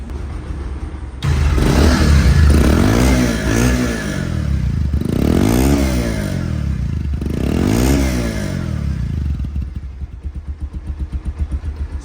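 A second-hand Bajaj Pulsar motorcycle with a single front disc brake revs loudly and close by, its engine climbing and falling in three or four distinct throttle bursts before settling back toward a choppy idle.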